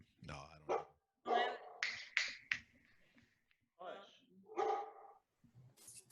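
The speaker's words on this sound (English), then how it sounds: "Why are you barking? Stop it." A dog barks several times in short bursts, close by, mixed with a person talking in the room.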